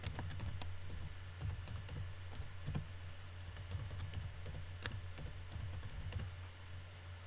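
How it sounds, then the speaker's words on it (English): Someone types on a computer keyboard at a quiet, steady pace, with soft key clicks tapping out continuously over a low background hum. "Then I will type my name."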